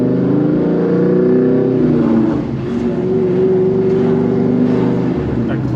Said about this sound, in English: That clutch sound.